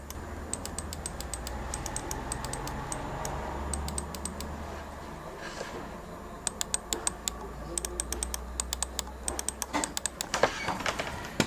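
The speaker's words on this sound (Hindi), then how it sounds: "जो क्लिक साउंड है ऑलमोस्ट सेम है जो हर माउस का होता है" Logitech MX Master 3 mouse giving short, sharp clicks in quick clusters, quiet at first and then in denser bursts over a low steady hum, with no talking.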